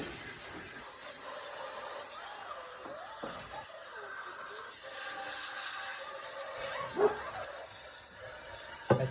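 Puppies during a bath give high, wavering whimpers and yips with a few sharper barks, fairly faint against room noise, with soft murmuring voices now and then.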